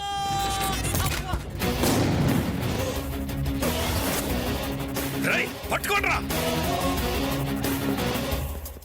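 Gunfire in a Telugu action film scene, with sharp shots and crashing impacts bursting through a dense, busy soundtrack that stays loud throughout.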